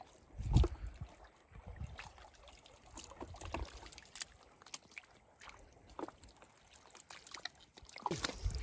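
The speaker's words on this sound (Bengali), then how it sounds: "রাতে নদীটা কত শান্ত, শুধু হালকা মৃদু ঢেউয়ের আওয়াজ শোনা যাচ্ছে।" Gentle river water laps quietly at night in the Sundarbans, faint and near, with soft trickles and occasional small knocks like a boat shifting.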